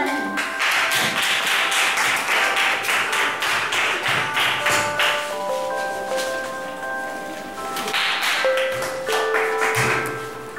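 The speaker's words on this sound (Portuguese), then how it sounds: "Palmas pra vocês e pra mim" Schoolchildren and audience clapping after a story performance, loud, quick rhythmic claps that fade midway, with a voice and musical tones between them, then a second burst of clapping.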